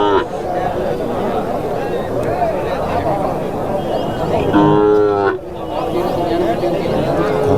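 Calves mooing at a busy cattle market in Tirupattur district, one loud close moo standing out over continuous crowd chatter and background livestock noise.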